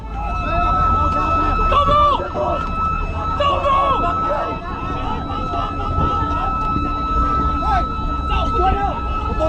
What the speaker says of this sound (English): They blared sirens and strobe lights.